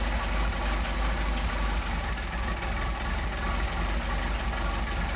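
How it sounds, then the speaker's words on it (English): A Mercedes 190SL engine on Solex carburetors idles low and steady, a close, continuous rumbling throb with a fine rhythmic pulse and no voices. "the throttle linkage wasn't adjusted correctly, so you can see it's low idle"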